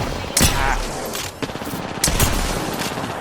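Several sharp gunshot bursts from a video game firefight, loud and close, separated by short gaps with a muddy rumbling bed between them.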